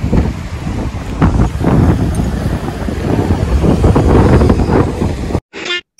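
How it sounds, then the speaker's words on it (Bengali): Strong gusts buffet the microphone in a loud, continuous roar of wind at a sea beach, cutting off abruptly near the end. "দারুণ হাওয়া দিচ্ছে এখানে, দেখতেই পাচ্ছ"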